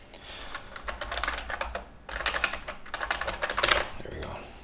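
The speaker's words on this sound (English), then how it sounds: "I'm trying to get a quieter keyboard." A loud computer keyboard clatters with dense, rapid keystrokes in bursts, a short pause in the middle, close and prominent with no talk over it.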